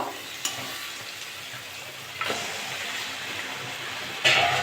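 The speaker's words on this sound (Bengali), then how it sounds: "মাংসগুলো দিয়ে ভালো করে কষে নেব" Chicken pieces sautéing in oily spice masala for a chicken and potato curry, a steady close sizzle with stirring scrapes and a few louder bursts, no talking.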